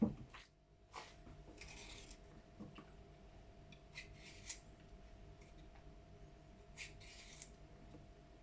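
A courgette being peeled in a kitchen for ratatouille, with a few quiet, separate scraping rasps at irregular intervals over a faint steady hum, with no talk.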